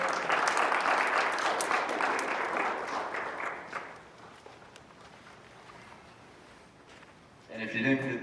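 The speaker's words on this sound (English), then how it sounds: "One more round of applause." Applause from a banquet audience at a YCP Omaha members' dinner, a dense patter of clapping that fills the room loudly for several seconds, then thins and fades into quieter hall noise before a voice starts near the end.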